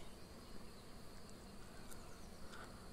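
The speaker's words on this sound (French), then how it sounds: "On entend le chant. Le chant magique des abeilles." Bees buzz among flowers outdoors in nature, a faint continuous hum with occasional closer passes, no voices present.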